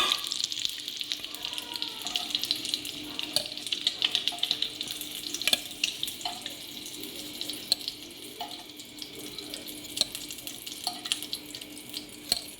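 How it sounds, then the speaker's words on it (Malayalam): An egg frying in hot oil in a pan after being turned over, giving a steady close sizzle with crackling bursts throughout, and no voices. "നമുക്ക് ഈ മുട്ട ഒന്ന് തിരിച്ചിടാം അതുകൊണ്ട് ചെറുതായിട്ടൊന്ന് ഫ്രൈ ആയിട്ടുണ്ട്"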